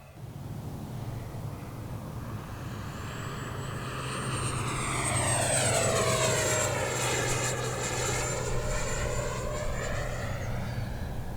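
A Freewing F9F Panther model jet with a 70mm electric ducted fan whines loudly overhead during full-deflection aileron rolls, its pitch sweeping down in a strong Doppler shift as it passes close by and pulls away.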